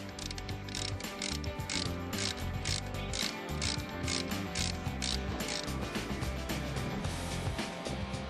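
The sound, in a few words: loosening the wheel hub on a Mercedes-Benz Actros truck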